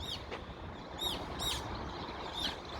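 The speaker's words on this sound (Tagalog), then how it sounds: "Iparinig ko lang sa inyo yung ibon eh." Small birds chirp outdoors on the grounds of a school in Korea, giving several short, bright calls spread across a quiet background hum.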